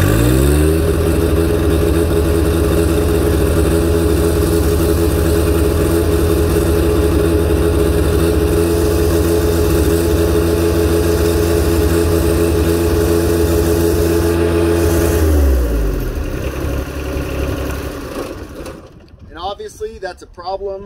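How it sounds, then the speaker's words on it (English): A John Deere 1025R compact tractor engine runs in gear with its wheels creeping, a loud, close, steady drone held for about fifteen seconds before it drops and winds down, followed by someone speaking briefly. "If I rev it up, they go even faster."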